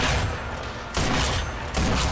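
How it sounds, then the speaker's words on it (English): Sniper rifle gunfire in the video game Sniper Elite V2, loud heavy blasts arriving about every 0.8 seconds in three bursts over dense, booming game noise. "How many times do I have to shoot you?"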